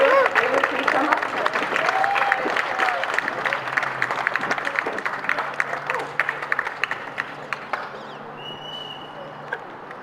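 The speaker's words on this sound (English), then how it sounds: "Please give your applause to David." Listeners at a poetry reading on equality applaud poet David, brisk, fairly close clapping that gradually thins and tapers off toward the end, with some voices mixed in.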